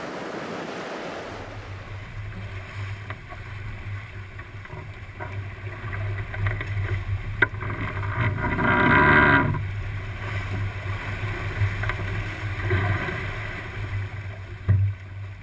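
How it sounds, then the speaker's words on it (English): A sailboat underway on the open ocean during a solo circumnavigation, with a steady hull rush and low drone, waves washing and surging past, swelling loudest near the middle, and a sharp knock near the end; no voices. "So I've been sailing along nicely for quite a while now"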